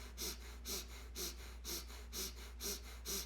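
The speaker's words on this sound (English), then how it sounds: "keep your attention focused on the sound of your breath" A person's slow, steady breathing in a quiet room, seven soft airy breaths in an even rhythm, close to the microphone over a low constant hum.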